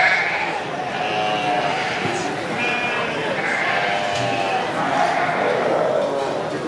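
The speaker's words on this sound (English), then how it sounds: "they're currently on Cheviot yearling ewes" Cheviot yearling ewes bleat repeatedly in the cattle pavilion at an Ohio livestock show sale, their calls rising over steady crowd chatter and talk near the ring.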